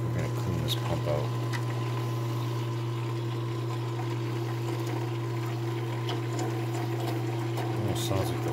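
A condensate pump runs sluggishly, putting out a constant low electric hum with a faint watery gurgle and occasional small clicks, close and steady throughout, with speech heard over it.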